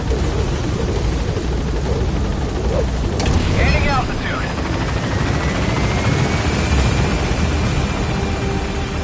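Extraction helicopter climbing in Metal Gear Solid V: a loud, continuous rotor roar and whine fills the scene, with a short burst of overlapping game sounds partway through and a voice speaking briefly over the engine.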